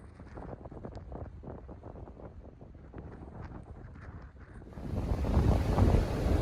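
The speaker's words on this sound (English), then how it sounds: "I'm really sorry that it's windy" Wind off the Northumberland Strait buffets the microphone with low rumbling gusts, steady throughout and swelling louder near the end.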